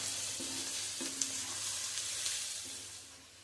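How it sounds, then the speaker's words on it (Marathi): Garlic fries in hot oil until pinkish, giving a continuous close sizzle with a few stirring scrapes and soft clicks, easing slightly toward the end with no talk. "हा इतपत म्हणजे गुलाबीसर रंगावर येईपर्यंत मी लसूण तेलामध्ये तळून घेतलाय"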